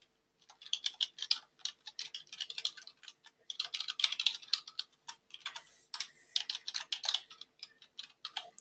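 Quick, uneven bursts of keystrokes on a computer keyboard, close and crisp, with brief pauses between runs of typing and no voices.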